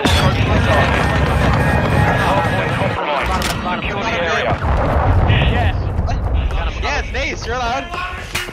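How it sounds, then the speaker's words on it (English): A cruise missile strike in a video game, a continuous roaring rumble of explosions and gunfire under excited talking, with loud bursts and crackling debris throughout. "Friendly cruise missile approaching the target."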